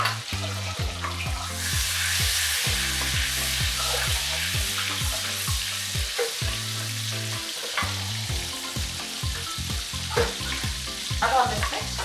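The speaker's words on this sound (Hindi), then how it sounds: "बटर के साथ में मैंने थोड़ा घी ले लिया ताकि बटर जले ना।" Butter and cow ghee sizzle steadily in a pan while making Mumbai-style pav bhaji. The bright frying hiss carries on throughout, with background music playing over it.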